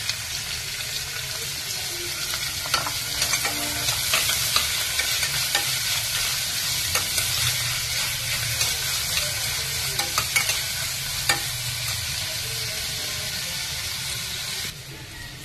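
Fennel seeds sizzle steadily as they fry in hot oil in a pan, with a spoon scraping and stirring through them in irregular clicks over a constant frying hiss.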